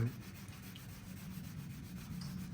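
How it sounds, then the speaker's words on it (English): Sandpaper of 800 grit dry-sands paint runs on a new Ford Fiesta. A steady, soft scrubbing rub goes on with a faint rhythmic back-and-forth and stays close and fairly quiet the whole time. "dry sand it with some 800"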